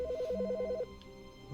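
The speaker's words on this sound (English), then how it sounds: "The phone's ringing." A telephone rings in The Stanley Parable, a trilling electronic bell in two quick bursts that then stops, leaving a quieter room tone with faint low rumbling.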